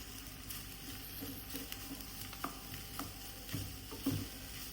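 Cooked rice is stirred and mixed in a pan with butter: soft scraping and gentle sizzling, faint and close, with a few sharper clicks of the utensil against the pan near the end.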